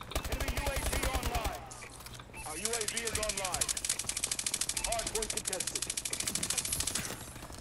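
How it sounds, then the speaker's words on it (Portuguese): Rapid bursts of Call of Duty: Advanced Warfare gunfire rattle steadily throughout, with a brief lull near the start, while people talk over the shooting. "Também tô querendo saber de onde vem esses tiros aí."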